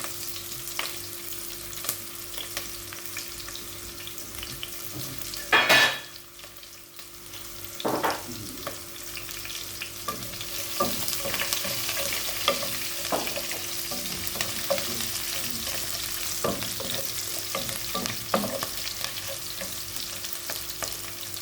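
Ginger, garlic and green chili fry in oil for a Kerala chickpea curry, a steady close sizzle with intermittent scraping clanks of a stirring spoon against the pan, with no talking.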